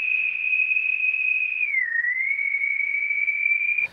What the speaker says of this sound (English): If I use the slope now, it'll kill all the top end. And instantly, we have something that sounds like a whistle.